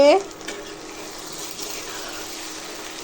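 Eggs fry with browned boiled potatoes in a pan, giving a soft, even sizzle that continues close by after a brief sharp sound at the very start.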